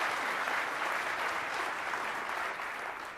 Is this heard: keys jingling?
no